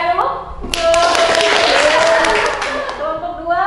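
A classroom group claps for a winning team after a quiz, a burst of dense applause that swells and fades, with a teacher's voice heard over it.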